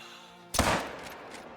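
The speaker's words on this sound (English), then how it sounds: "Wow, that shot looked good." A single sharp shot from a 45-70 pistol while hunting a herd in the game Call of the Wild, a sudden loud blast with a short decaying tail over a low game ambience.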